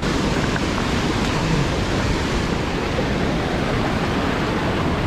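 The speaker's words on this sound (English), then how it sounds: "This is actually quite a lot of water in the river." Broad, steady rush of river water running high in a mountain stream at Goat Pass, constant and close throughout with no talk over it.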